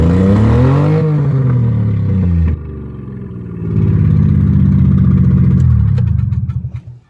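A turbocharged Geo car engine revs hard and close, rising and falling in pitch through several pulls before settling and fading at the end, with no talk over it.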